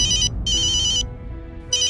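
A phone ringtone sounds in bright, repeating bursts separated by short pauses, loud and clear over a low background murmur.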